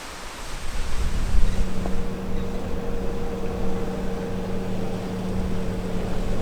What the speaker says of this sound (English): this road I'm on crosses the creek right here atop the falls